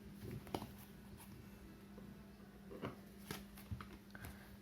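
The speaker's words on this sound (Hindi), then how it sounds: "कार्ड्स मैं इंट्यूटिवली लूँगी।" Tarot cards being shuffled and drawn by hand, giving soft scattered riffles and flicks in a quiet room, with a faint steady hum underneath.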